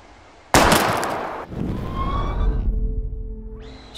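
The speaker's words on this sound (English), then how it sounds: "We're gonna shoot all these bottles without wasting a single bullet." A single loud, sharp gunshot fired at bottles in the video game Life is Strange, a sudden near blast followed by a ringing, whining tail and a tonal game sound at the end.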